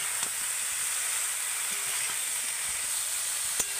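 Cabbage being stirred and fried with spices in a pan, a soft steady sizzle with occasional light clicks of a utensil against the pan, fairly quiet and without talk.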